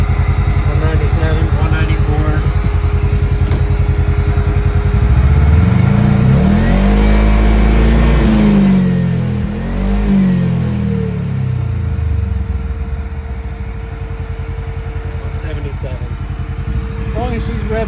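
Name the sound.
Polaris RZR XP 1000 side-by-side engine revving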